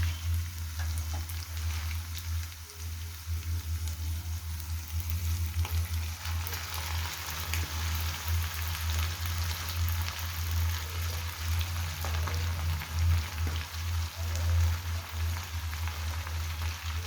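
Gongura leaves sizzle and fry steadily in a pan for a prawn curry, with a constant hiss and occasional stirring, close and with no talk.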